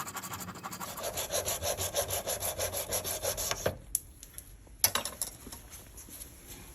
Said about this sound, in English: I'm just going to take my little saw here and I'm going to cut an oversized piece.